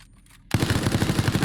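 Rapid automatic gunfire in Resident Evil Resistance breaks out suddenly after a quieter moment, a loud, dense burst of repeated shots continuing to the end.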